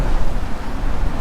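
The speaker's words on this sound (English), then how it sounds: "It's pretty windy today." Strong wind buffets the microphone on a beach, a loud, steady roar of broadband rumble with gusty fluctuations and no voices.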